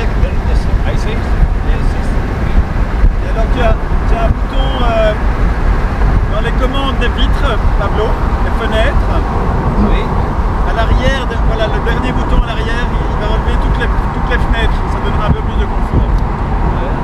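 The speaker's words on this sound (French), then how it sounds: "l'entrée pour finir l'accélération totale de la voiture" BMW 3 Series car accelerating hard at full throttle, heard from inside with a steady, loud engine and road roar filling the whole stretch while a voice talks over it.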